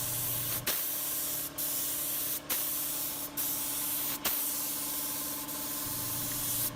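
Lacquer finish sprayed in repeated hissing bursts, each pass broken by short pauses, close and steady with no talking.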